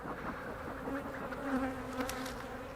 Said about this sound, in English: There's still a lot of angry bees in there over here.